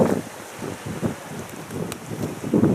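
Gusty wind buffets the microphone beside Lake Leone's rocky shore, with irregular low rumbling bursts that rise and fall, fairly loud and close, with no voices.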